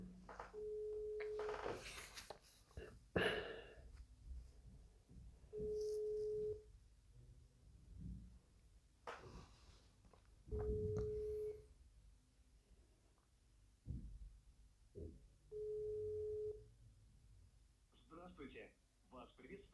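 A phone ringback tone on a call to an ordinary number sounds as four long steady beeps spaced evenly about five seconds apart, with people talking in between and over the gaps.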